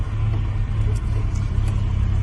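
A 1983 Ford Ranger 4x4, long unused, runs with a steady low engine rumble while driving slowly, close and continuous with no talk.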